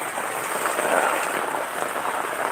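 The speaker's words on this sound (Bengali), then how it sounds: "দেখছেন বৃষ্টি মানে এতটাই বৃষ্টি হচ্ছে যা বলার বাইরে" Steady, dense rain from Cyclone Remal pours down continuously, a loud broadband hiss of heavy drops with no voices.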